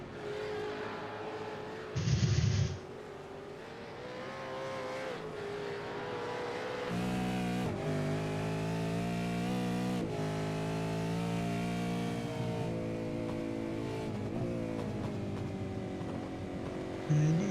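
A V8 race car in a racing game lapping the Le Mans circuit, its engine droning steadily and rising through the gears, with a short higher burst near the start and a sustained harmonic whine throughout.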